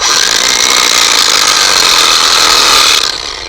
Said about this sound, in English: put a little notch with just a battery operated grinder right at number 4